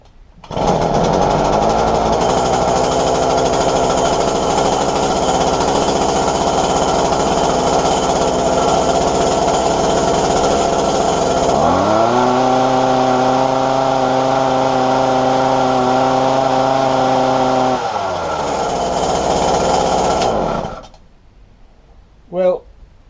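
A McCulloch hedge cutter's small two-stroke engine runs steadily on half choke, loud and close, with a buzzing drone that shifts to a higher, smoother pitch midway before cutting out, followed by a brief knock.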